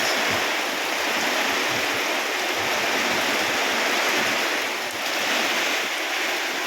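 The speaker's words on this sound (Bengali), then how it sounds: "দমকা হাওয়ার সাথে বৃষ্টি," Heavy monsoon-style downpour driven by gusty wind, a dense, unbroken roar of rain and rushing air that stays loud and steady throughout with no voices.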